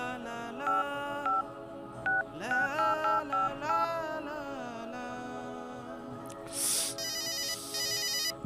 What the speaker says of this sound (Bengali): আমি তোমার আব্বুকে এখনই ফোন দিচ্ছি